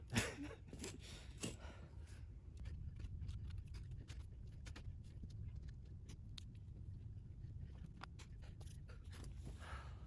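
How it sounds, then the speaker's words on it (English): Heavy, rapid breathing of someone winded from digging a hole to plant a tree outdoors, gasping at first and then steady panting close to the mic, with occasional scrapes and soft patter behind it. "I'd talk to you more, but I'm out of breath."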